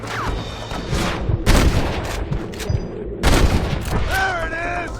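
Gunfire in Red Dead Redemption on Xbox One, several loud sharp bursts close by with booming reports and some echo, layered under game voices and ambient noise.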